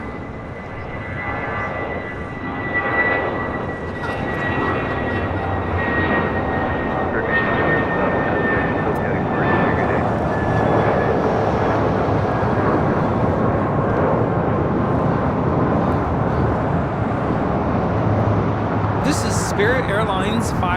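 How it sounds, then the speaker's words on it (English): A Spirit Airlines Airbus A319 departs from LAX bound for Las Vegas. Its jet engines give a loud, sustained roar that stays strong for the whole stretch, with voices talking over it. "Spirit Airlines 507 taking off to Las Vegas on an A319."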